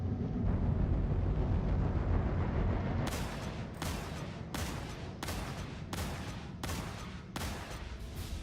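Gunshots in Star Citizen, fired as steady pot shots: about eight sharp reports at a regular, unhurried pace that cut through a constant roaring background rumble, near and fairly loud.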